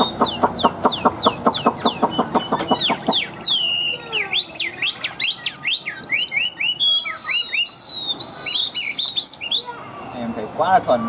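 A tame songbird sings loudly and close by, rapid repeated chirps giving way to varied whistled phrases, sweeping slurs and trills that continue almost without pause.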